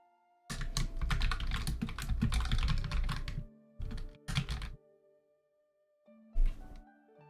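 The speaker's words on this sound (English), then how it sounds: "If I put my mic in front of my keyboard, let's see if you guys can still hear the tip tip tip tips of it." Computer keyboard typing with the mic set close in front of the keys: a dense burst of rapid clicking and clacking for about three seconds, then two short flurries and one last brief flurry after a pause, loud and near, no talk.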